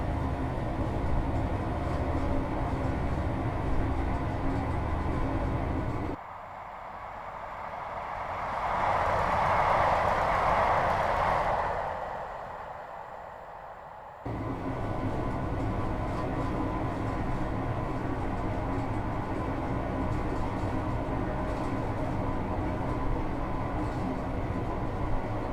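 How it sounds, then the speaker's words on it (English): A Class 158 diesel train in Train Simulator coasts with power shut off, a steady low rolling rumble whose tone changes for several seconds in the middle as a brighter whooshing passage sweeps through before the even drone returns. "I'm just going to shut off the power and allow the train to coast"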